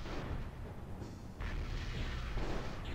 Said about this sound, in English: that X-Pulse laser has got such a sweet sound to it